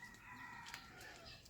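Outdoors where chickens and chicks roam among fruit trees, a hen's brief clucking calls come through faint and slightly distant over quiet background noise.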